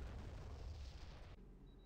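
A missile launching in the naval combat game Modern Warships, a loud sustained roaring rush with low booming rumble that cuts off abruptly near the end, leaving a quieter hum.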